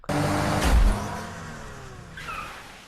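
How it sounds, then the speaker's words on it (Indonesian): A car engine revs sharply and accelerates close by, a loud burst that eases into a steady drive as the vehicle moves off, fading slightly toward the end. "kita diperlihatkan sebuah mobil yang berjalan seperti mobil pada umumnya."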